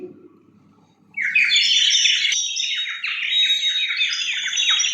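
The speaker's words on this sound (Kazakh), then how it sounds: "Құстың дауысы" Birds call in a rapid, continuous stream of bright, high chattering chirps that starts abruptly after a quiet second of faint low noise and carries on loudly to the end.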